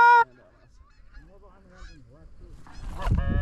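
Geese honk during an early-season goose hunt in North Dakota, with a close, loud honk at the start, then a scattered chorus of softer honks and calls from a flock, growing louder and denser toward the end.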